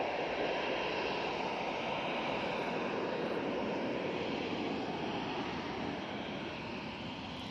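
A fixed-wing aircraft at Manchester Airport produces a loud, continuous engine roar that fills the whole stretch without a break, with a faint windy rush mixed in and no voices.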